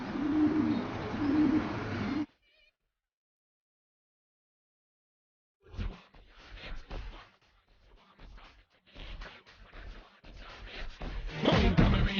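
Racing pigeons coo and rustle close by in a loft, with murmuring bird calls and flutters after a brief silent gap following an opening stretch of noise.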